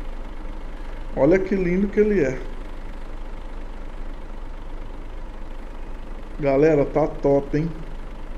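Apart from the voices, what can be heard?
Volvo FH 540 truck engine idling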